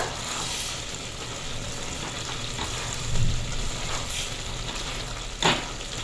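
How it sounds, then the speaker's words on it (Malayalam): Chapati curry being stirred in a pan, a steady sizzling frying hiss throughout with a couple of brief louder scrapes or clinks of the spoon against the pan. "എല്ലാ ഭാഗത്തേക്കും ഒന്ന് ഇളക്കി കൊടുക്കുക"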